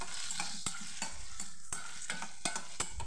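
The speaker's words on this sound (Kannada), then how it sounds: "ಇದನ್ನೀಗ ಎಣ್ಣೆಯಲ್ಲಿ ನಾನು 1-2 ನಿಮಿಷ ಹುರಿತೇನೆ" Boiled potato pieces fry in oil in a pan with a close, steady sizzle, broken by repeated sharp scrapes and clinks as they are stirred.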